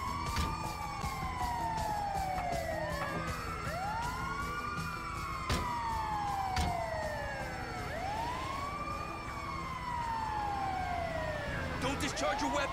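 Ambulance siren in the GTA 5 video game, rising and falling wail repeating steadily, loud and close throughout over engine and game noise, with sharp clicks and thumps near the end.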